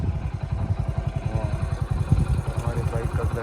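Motorcycle engine running close by as the bike rolls into clear water on a village trail, a rhythmic low thumping putter with clatter while a person talks over it.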